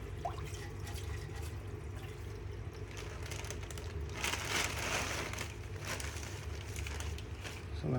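An aquarium rock for a reef tank is rinsed in water, giving a steady low splashing and trickling wash that swells slightly midway, fairly faint and close, with no talk.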